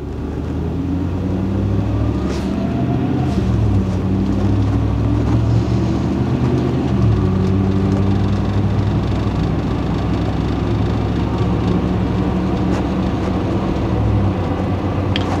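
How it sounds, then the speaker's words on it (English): A 1994 Land Rover Defender 110 pulls away and its automatic gearbox shifts up through the gears into overdrive, heard from inside as a loud, steady engine drone and rumble with changes in pitch as the gears change. "I just heard all of the gears shift all the way up into drive and overdrive."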